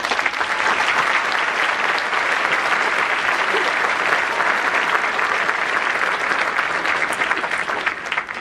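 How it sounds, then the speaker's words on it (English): Sustained, dense applause from a large audience at the Pratt class of 2018 commencement ceremony for graduating students, loud and steady throughout before tapering slightly at the end. "Another round of applause for our incredible students."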